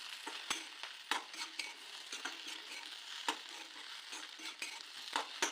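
Okra tossed with coarsely crushed peanuts in a pan, a soft frying hiss broken by sharp scraping strokes of a spatula at an irregular pace, fairly quiet and close, with no voices.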